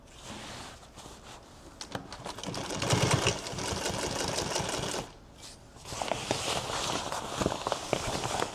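Sewing machine stitching a custom duffle bag, bursts of rapid mechanical needle chatter that speed up and slow, with a brief pause midway before stitching resumes, close and moderately loud.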